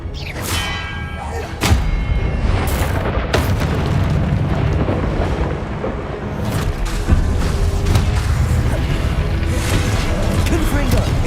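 Blasting-spell explosions from Confringo in the Hogwarts Legacy video game: loud booming thuds and crackling bursts in quick succession over a dense, rumbling game soundscape, with speech mixed in.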